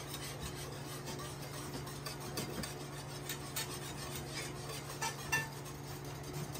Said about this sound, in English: I like to whisk it the entire time I'm cooking it.